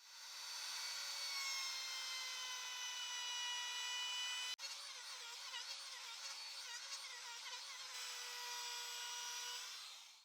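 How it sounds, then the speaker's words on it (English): A router fitted with a 25 mm round-over bit whines at a steady high pitch as it shapes a wooden edge, the tone wavering as the cut bites midway before settling; no voices. "This time, I'll use this 25 millimeter round over bit."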